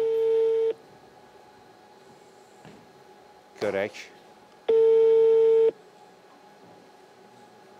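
A telephone tone sounds twice as long steady electronic beeps, separated by a gap holding a brief burst of talk.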